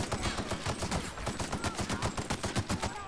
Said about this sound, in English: I saw an enemy and shot him